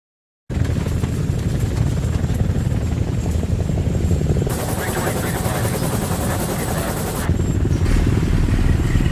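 A helicopter in the video game Ghost Recon Jungle Storm drones steadily as it departs, a loud, continuous rotor roar with a thudding beat that holds throughout.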